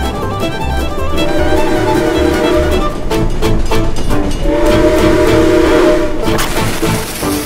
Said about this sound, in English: A train's coming that way!